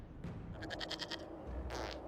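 A goat in the video game Dragon Age: Inquisition lets out a rapid, wavering bleat followed by a shorter second cry, heard over a soft game ambience.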